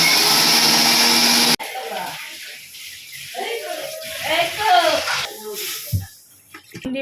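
A mixer grinder runs loud and steady, grinding soaked rice with a little water, then cuts off abruptly, leaving kitchen clatter and someone talking.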